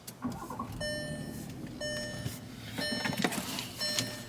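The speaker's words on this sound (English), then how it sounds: "Let me turn this car on" A car starting up, with chime tones repeating over a low engine rumble and some cabin shuffling and clicks, close and fairly quiet.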